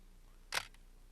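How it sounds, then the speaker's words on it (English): A 35mm single-lens reflex camera's shutter fires once on its self-timer, giving a crisp, close mechanical click with a faint second tick just after, in a quiet room. "the self-timer will activate the shutter smoothly when shooting with long lenses or at slow shutter speeds"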